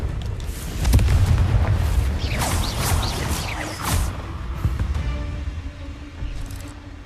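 Confringo explosive spell blasts in the Hogwarts Legacy video game, a series of loud rumbling booms with whooshing bursts overlapping across several seconds, dense and close, with no voices.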